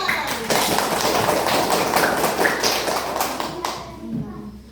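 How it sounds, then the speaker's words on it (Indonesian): A classroom breaks into dense, steady applause, many hands clapping together for several seconds before it tapers off, with children's voices mixed in. "Tepuk tangan."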